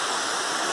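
A waterfall on the Furnas trail up Mestre Álvaro in Serra, Espírito Santo, gives a steady, broad rush of falling water, loud and close, with no voices over it.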